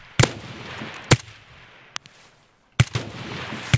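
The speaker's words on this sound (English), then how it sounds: "So I gave him another three shots" Gunshots in the video game Escape from Tarkov fired in an open field, four sharp loud reports at uneven intervals, one much fainter, with a brief ringing tail after each.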